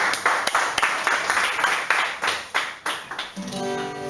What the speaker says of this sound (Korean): 다 같이 한번 환영하는 박수.